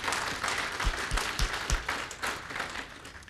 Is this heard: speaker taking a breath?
no